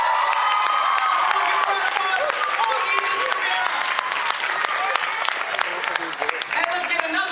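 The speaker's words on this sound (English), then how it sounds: "let's get another round of applause for all of our contestants" A large audience applauds contestants at a cultural wear pageant, with steady, dense clapping mixed with scattered cheers and whoops throughout.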